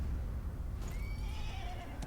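A horse neighs in a fantasy video game commercial, one drawn-out whinny over a low rumble of background music, with no talking.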